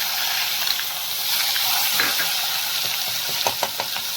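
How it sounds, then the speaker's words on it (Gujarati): Garlic, ginger and chili paste sautéing in hot oil with cumin, mustard seeds and asafoetida for a ridge gourd and patra curry, a steady close sizzle with scattered stirring clicks and a few sharper spatters toward the end. "લસણ, આદુ, મરચાંની પેસ્ટ સતરાઈ જાય એટલે લસણનો કાચો ટેસ્ટ આવે નહીં"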